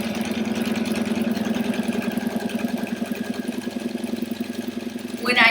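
Sewing machine stitching a quilt runs in a steady, continuous mechanical whir with rapid regular needle strokes throughout, fairly close, ending with a brief louder clatter; no talk over it.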